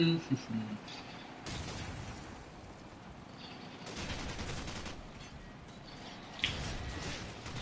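Bursts of rapid gunfire in Call of Duty 4 crackle in short volleys between quieter stretches, with a few sharp single shots and faint electronic tones.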